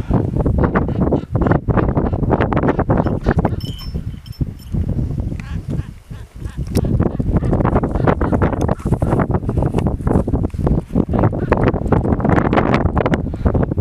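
Strong wind roars and buffets continuously across a mountain ridge, with gusts battering the microphone and a brief lull partway through.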